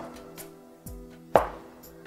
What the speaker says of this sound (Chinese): 现在准备些配菜，豆腐切成四方块就可以